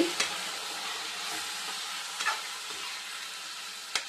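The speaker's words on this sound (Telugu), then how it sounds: "ఇలా వేసుకొని బాగా కలబెట్టుకోవాలి" Chilli powder and coriander powder stirred into a frying bean and tomato curry, a steady soft sizzle with a few sharp spoon scrapes against the pan, alone and close.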